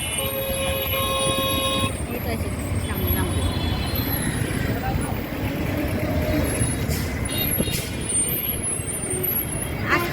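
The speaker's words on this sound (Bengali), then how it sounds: "এটা আমাদের বাস স্ট্যান্ড" A busy bus stand rumbles with engines and traffic, with horn toots and hissing air brakes rising over the din and people's voices in the background.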